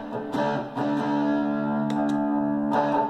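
An electric guitar runs through a distortion pedal switched by a footswitch: sustained, heavily distorted chords ring out while several short clicks and picked attacks break in, changing the tone between passages.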